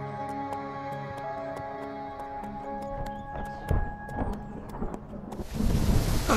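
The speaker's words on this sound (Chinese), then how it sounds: "大雨啊！" Heavy rain with thunder in a Chinese TV drama scene: music plays first, then a low rumble is followed by a loud, close downpour that rushes in and fills the final second.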